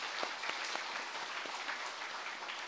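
A church congregation at a Sunday worship service applauds steadily throughout, a dense, even wash of many hands clapping with a few sharper claps standing out, no talking over it.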